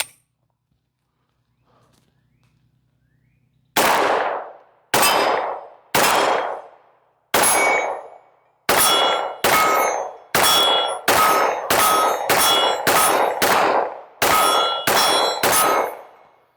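A 20-year-old Beretta 92FS pistol fires at steel targets, giving about fourteen loud, ringing metallic clangs that start spaced apart and then come faster and close together near the end.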